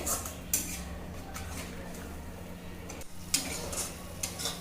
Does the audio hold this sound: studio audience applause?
no